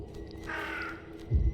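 A crow cawing in the video game The Sinking City: one drawn-out, raspy call in the middle, set over a low ambient game hum, with a deeper thump near the end.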